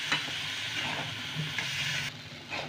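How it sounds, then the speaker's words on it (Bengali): Boiled peas and potatoes being sautéed together in a pan make a continuous close sizzle, broken by a few scraping stirs of the spoon against the pan. "মটরটাও কষে নিয়েছি আমি আলুর সাথে"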